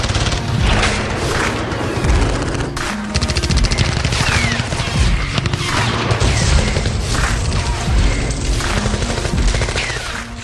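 Lee Enfield Mark III rifle fire in Battlefield 1 gameplay, a loud, dense stretch of battle with repeated sharp gunshots, booming blasts and rattling automatic fire crowding together almost without pause.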